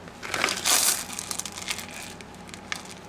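Chocolate chips folded into banana bread batter in a bowl, giving close, soft crunchy scraping and squelching strokes, loudest near the start, then quieter repeated stirring sounds, with no talking.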